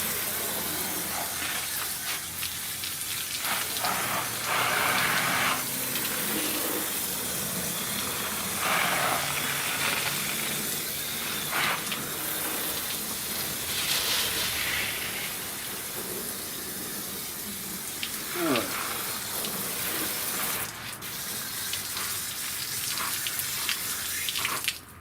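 Water spraying and rinsing down a Buick body panel during autobody repair, a hissing, splashing flow that swells and fades in bursts over a steady wash, with no talk.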